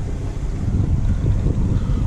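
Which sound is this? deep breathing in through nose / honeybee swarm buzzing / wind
wind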